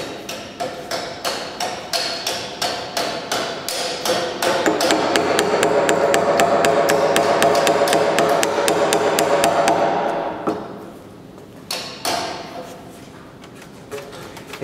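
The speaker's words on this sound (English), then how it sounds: "All I'm going to do is I'm going to take my chisel and work straight down and take it." Hammer blows drive a chisel straight down into a timber cross beam to trim a joint cheek; a steady run of sharp, close strikes speeds into a dense flurry, then slows to a few scattered knocks.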